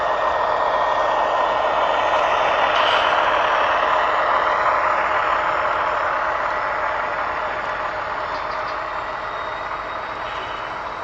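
A turbocharger on a faulty but still-working turbo spools up: a loud, steady broadband roar with a thin high whine drawn out across the whole stretch, and no voices.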